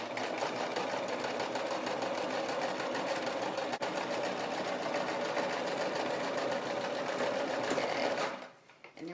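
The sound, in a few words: sewing machine stitching a baby romper seam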